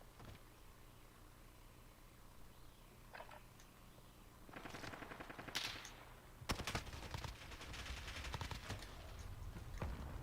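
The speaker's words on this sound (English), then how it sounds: "He's now shooting you." Rapid automatic gunfire from a first-person shooter video game, starting softly and breaking into loud sustained bursts of rattling shots over a constant background hiss, with no voices.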